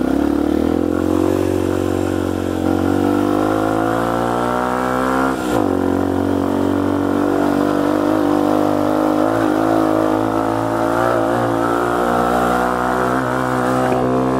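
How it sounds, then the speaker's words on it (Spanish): Fratelli Xe 125 with a simple single-cylinder engine climbing a rough dirt track, a steady loud drone rising in pitch through second and third gear, with one brief dip at a gear change and a constant close engine roar throughout. "la moto trepa, segunda y tercera, la motico tiene fuerza, un motor sencillo"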